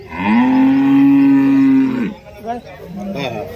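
A loud, drawn-out moo from a Holstein Friesian cow lasts about two seconds up close at a cattle market in Sangola, followed by quieter lowing and faint murmurs in the background.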